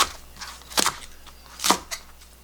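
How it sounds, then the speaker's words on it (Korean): Green onions being sliced with a knife on a cutting board, two distinct crisp chopping knocks about a second apart, close and clear with no talking. "자 이런 식으로 썰어 놓을게요."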